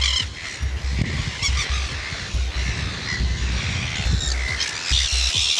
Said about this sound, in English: Oh, my God, look at these birds.